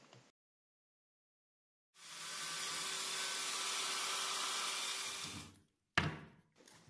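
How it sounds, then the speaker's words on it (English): A belt sander cleaning up a saw cut in wood, a loud steady whirring hum running for about three and a half seconds before cutting off, followed by a couple of brief knocks. "finally had to clean it with a belt sander."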